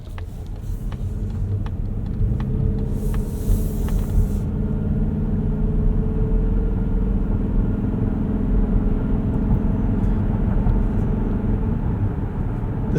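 A 2025 Mazda CX-50 Hybrid accelerating onto a highway, heard from inside the cabin as a steady, loud low engine and road rumble that holds constant, with no talking.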